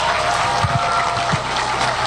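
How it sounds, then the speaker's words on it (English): Steady applause from a comic convention crowd at a kids' cosplay contest fills the space, a continuous wash of clapping at even volume without a break. "A rousing round of applause for all our contestants."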